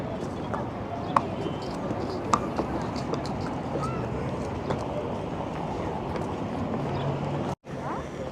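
Hooves of well-groomed horses clip-clopping on pavement in Doha, Qatar, a steady rhythm of close footfalls amid outdoor street noise and people talking.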